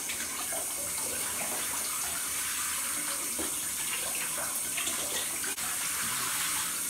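Shower water running steadily in a bathroom, a continuous hiss and patter of spray with small splashes, close and even throughout with no talk.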